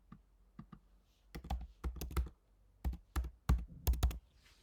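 A computer keyboard clicks as a country code is typed in, with a few light taps first and then clusters of crisp, close keystrokes in uneven bursts over near silence.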